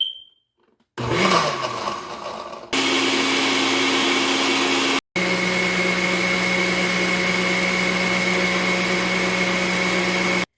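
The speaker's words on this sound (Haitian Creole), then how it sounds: "So là, nous allons blender tout ensemble" A blender runs loudly and steadily, whirring through a turmeric face scrub mixed with orange juice; the motor starts, jumps to a higher steady drone, cuts out for a split second, then runs on with a constant hum.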